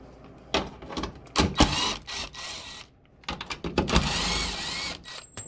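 Plastic footwell skid plate coming off a CFMoto CFORCE ATV, with clustered bursts of clicking, rattling and scraping separated by a short pause, close up.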